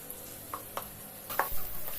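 Ginger garlic paste sizzles in a hot frying pan with brief scraping stirs and crackling bursts, close and fairly soft, no voices.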